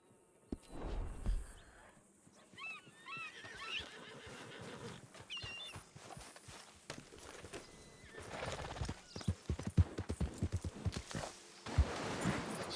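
Horse hooves clop in an uneven rhythm in Red Dead Redemption 2 Online, growing louder and busier toward the end, with a whinny breaking in near the start.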